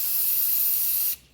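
A steady, loud hiss of terracotta spray paint from an aerosol can, sprayed close up onto a pumpkin decoration in one continuous burst that cuts off abruptly just before the end.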